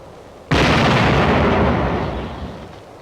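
An artillery shell explodes in a 1945 wartime combat newsreel, a sudden loud blast after a quiet moment, then a long rumbling roar that slowly fades over a couple of seconds.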